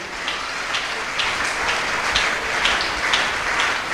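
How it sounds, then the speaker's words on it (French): A church congregation applauds together during a worship service, a dense, steady wash of many hands clapping at close range that keeps going without a break. "Continuez à applaudir bien aimé nous."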